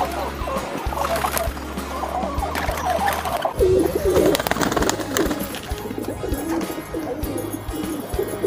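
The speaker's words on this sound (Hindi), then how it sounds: "ये कबूतर देखिए अभी गुटकना भी चालू कर दिया इसने।" A pigeon coos softly up close in repeated low throaty phrases, set against a steady low hum and some scattered clicks and rustles.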